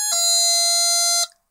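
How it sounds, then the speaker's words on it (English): A 50p electronic 555 doorbell kit sounds when its button is pressed, giving one loud, bright sustained electronic tone that holds steady for over a second, then cuts off sharply. "and it makes a doorbell sound"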